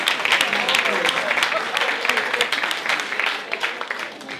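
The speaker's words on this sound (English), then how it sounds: "can we just give them all a hand of applause" Audience applause at a Black Excellence pitch-panel event, a busy spread of crisp hand claps throughout, moderately loud and uneven.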